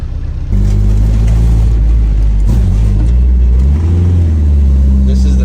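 Nissan 240SX engine idling and revving with a steady low rumble that dips and sags midway as the motor cuts out from a fuel cut fault, then picks back up; close and loud, with a voice talking over it.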